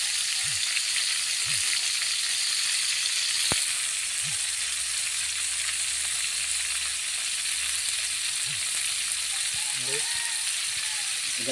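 Garlic, onion and chili frying in a pan, a loud continuous hiss of hot oil sizzling steadily and close throughout, with faint clicks and brief bits of background voice.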